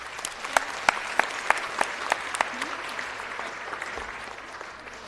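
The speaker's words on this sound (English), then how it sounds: "If we can please give them a round of applause." A modest crowd applauds at a city council meeting, with sparse, distinct individual claps ringing out over a softer clapping bed that gradually thins and fades.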